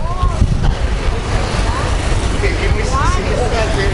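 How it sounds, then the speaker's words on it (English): Strong, continuous wind roaring across the microphone, loud and buffeting, with faint traffic and distant voices underneath, beside a construction area in Athens, Greece. "it's really windy right now"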